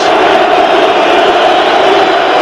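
A large football stadium crowd at a 1995–96 Rangers versus Celtic match applauds loudly and steadily as Celtic striker Pierre Van Hooydonk leaves the field, a dense continuous roar of clapping and cheering.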